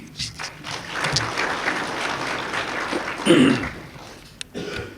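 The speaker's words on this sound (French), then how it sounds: "Permettez-moi de lui présenter nos vifs remerciements à travers une acclamation." An audience applauds at an official education launch ceremony in Burundi, with a moderate wash of clapping that swells briefly near the end, a few thuds and murmurs mixed in.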